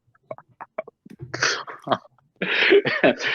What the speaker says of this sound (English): need to blow my nose.